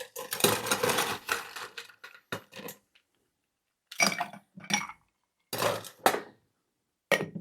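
Ice cubes drop into a metal cocktail shaker for a Christmas mistletoe margarita, several bright clattering clinks in separate bursts with silent gaps between them, close and alone.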